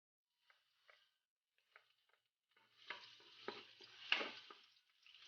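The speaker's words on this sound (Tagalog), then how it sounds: "Kapag mainit na po yung ating mantika, maglalagay na tayo ng bawang." Garlic dropped into hot cooking oil for pancit palabok, a few faint clicks and taps before a rising sizzle that crackles and pops steadily nearby, with stirring sounds and no talking.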